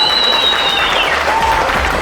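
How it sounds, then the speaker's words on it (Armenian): Wedding guests clap in a sustained, loud burst of applause for the full two seconds, dense and steady with a faint tone drifting underneath. "թող առաջի ծափերը շեշտեն արդիկի ուժը"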